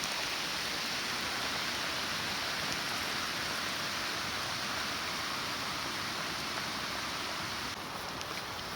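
Steady, dense rain hisses evenly throughout, a constant broadband wash with no voices or breaks.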